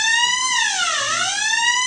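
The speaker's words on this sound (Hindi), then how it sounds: "अलार्म भी बज" A fire alarm from a fire detection and suppression system sounds alone, a loud continuous electronic tone with rich harmonics that sweeps down and then back up in pitch.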